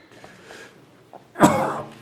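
A single sneeze bursts out at a public county board of supervisors meeting, loud and close after a stretch of quiet room noise and faint murmurs.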